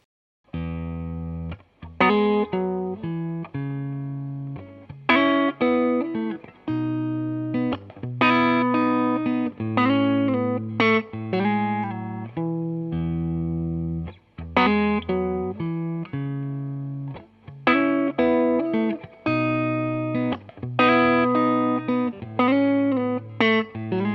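An electric guitar runs through a Klon-style overdrive pedal set to low gain, playing strummed chords and riffs with a mildly crunchy, reverberant tone, continuous and prominent with no talking.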